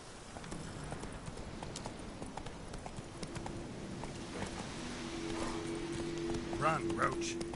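Hoofbeats of the horse Roach running in The Witcher video game, a steady galloping clip-clop under rain-like hiss and a low drone, with a voice speaking briefly over it.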